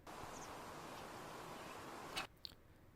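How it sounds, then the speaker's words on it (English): Faint, steady wind sound effect with soft, broadband rushing noise, ending in a brief rustle and near silence. "all you're going to hear is this wind blowing."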